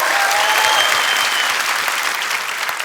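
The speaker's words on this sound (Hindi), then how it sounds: "तालियों की गड़गड़ाहट होती है" Studio audience at a comedy talk show breaking into loud, dense applause, a steady wash of clapping close up throughout with no voices.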